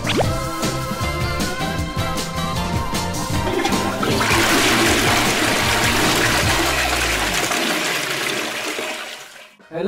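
A toilet flushes loudly and close up, a churning rush of water that swells into a roaring gush and then drains away into quiet, with a faint musical tone running underneath.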